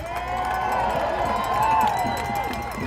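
A large rally crowd cheering, a sustained roar of many voices with whoops, loud and steady throughout, with speech mixed in underneath.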